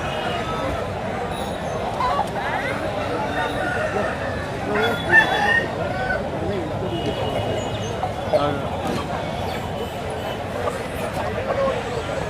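Roosters crow repeatedly amid a dense, noisy crowd of clucking native country fowl and people talking throughout, a busy poultry-market din at a large country chicken market in Anakapalli, Andhra Pradesh.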